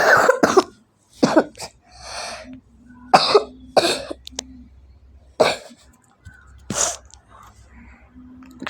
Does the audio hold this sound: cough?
yes